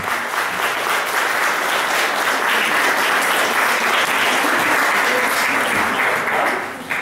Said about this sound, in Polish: Jeszcze raz brawa dla naszych laureatów